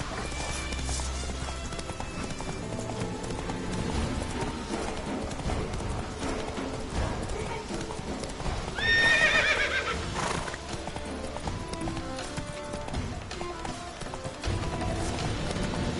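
Horse hooves clip-clop at a steady gallop in The Witcher 3, with a loud whinny bursting out in the middle, all over a dense layer of game music and ambience.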